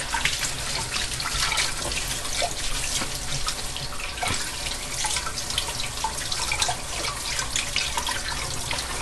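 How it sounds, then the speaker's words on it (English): Hands rinsed under a running kitchen tap, water splashing continuously and loudly into the sink nearby with small irregular bursts, no talk. "So, let me rinse my hands off."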